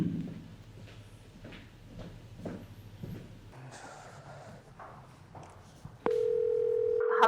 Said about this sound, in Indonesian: Ren, telepon mama saya